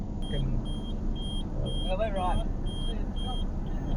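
A car's warning sensor beeps in a steady, evenly spaced series of high electronic tones over a low engine rumble, while someone speaks briefly in the middle.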